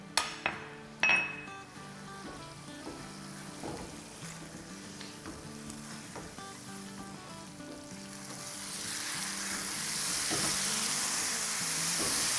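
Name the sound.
batt karahi sizzling and being fried on high flame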